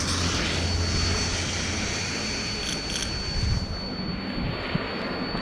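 A motorcycle's radiator fan runs as the bike heats up on a monsoon ride, giving a loud, continuous whirring rush with a thin high whine that holds steady throughout.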